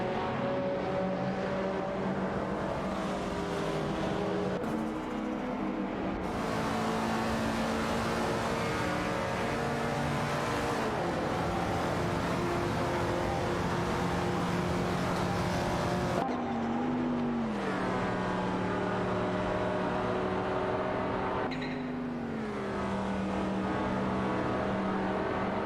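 Race car engines in a racing video game drone continuously at high pitch, with shifting tones as cars change gear and pass, steady and loud throughout with no talk.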